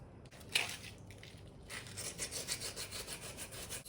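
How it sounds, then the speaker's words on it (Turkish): Wet sandpaper moistened with water rubs across a hard plaster surface in quick, rhythmic back-and-forth strokes, close by and moderately quiet. "ıslatarak zımparayı kullanıyorum"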